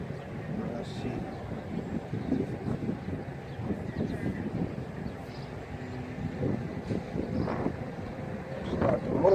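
Strong outdoor wind buffets the microphone in low, uneven gusts during a Walkera Rodeo 150 quadcopter flight, a continuous rumbling roar that swells louder toward the end.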